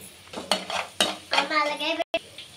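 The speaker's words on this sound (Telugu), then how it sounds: "ఉప్పు, కారం, పసుపు వేసుకున్న తర్వాత బాగా ఎగ్స్ ఇలా మిక్స్ చేసుకున్నానండి" Eggs being whisked with salt, chili powder and turmeric in a bowl, giving close, repeated clinks and scrapes of utensil against dish in quick irregular bursts with no talking.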